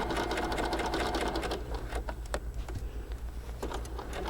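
A sewing machine stitches a dress and its lining together, running in quick rattling bursts with short pauses and a few clicks between runs, close and fairly quiet.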